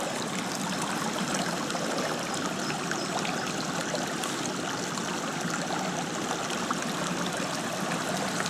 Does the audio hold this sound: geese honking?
no